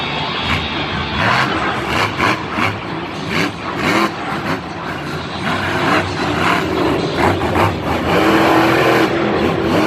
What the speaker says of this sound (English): Steven Thompson, as you have already seen, is out here on the freestyle track here in this Hurricane Force truck.